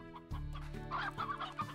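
Roosters clucking in the Slime Rancher video game, a run of repeated short clucks that grows busier partway through, heard over a steady humming game soundtrack with no talk.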